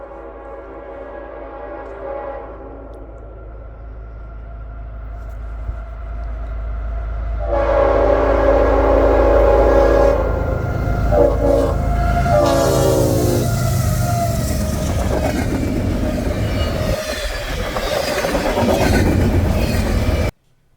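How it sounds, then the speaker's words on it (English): CSX 3194 freight train, westbound, passes close with a loud sustained multi-tone horn blast, rumbling engine and rolling wheels building as it nears, then rail noise continuing until an abrupt cut. "caught CSX 3194 leading I017 westbound"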